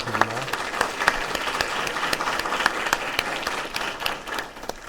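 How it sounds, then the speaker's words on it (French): A webinar audience claps for its speakers in steady, dense applause that holds throughout, with a brief voice at the very start. "Je vous propose d'applaudir nos 3 intervenantes qu'on a suivies pendant ce webinaire."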